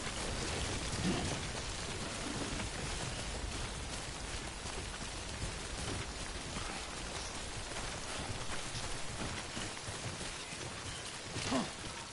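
Steady, dense rain in the video game Death Stranding, a constant broadband hiss of drops on surfaces that stays even and fairly loud throughout with no voices.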